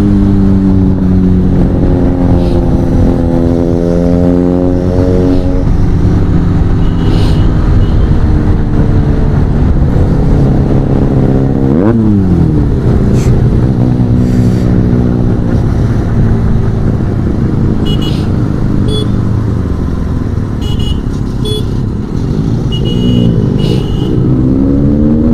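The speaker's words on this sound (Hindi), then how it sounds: "चेक करो बिनेली का साउंड।" Benelli 300 motorcycle fitted with an SC Project exhaust, revving loudly and steadily up and down at close range for about 25 seconds, its rising and falling engine note continuous and prominent, with no talking.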